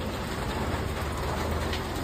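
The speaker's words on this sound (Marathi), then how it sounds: "वाटलेला पाऊस येणार आणि पाऊस आला" Rain falls steadily beside a pickup truck, an even broadband hiss with a low rumble underneath and no speech.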